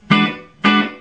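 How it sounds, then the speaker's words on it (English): Two dry electric guitar chords through a Fender-style amp with reverb switched off, struck one after another, each ringing briefly and fading with no echo or lingering tail. "I can turn the reverb off completely."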